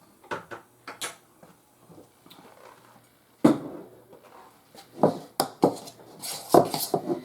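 A utensil mixes cinnamon roll ingredients in a bowl, with scattered close clinks and scrapes, quiet stretches between, then a busier run of sharp knocks near the end.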